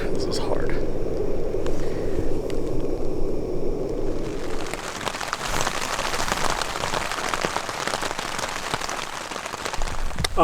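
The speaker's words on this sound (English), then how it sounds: "The rains came pretty heavy last night in the tent, and it's just a light rain right now" Light rain patters steadily on a tent at a camp during a black bear hunt in Washington State, a dense close hiss that grows brighter and fuller midway, with no voices.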